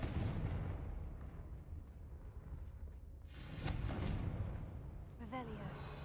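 A Confringo blast spell from the Hogwarts Legacy video game goes off as a broad, rumbling explosion, swelling partway through over a dense, continuous game soundscape.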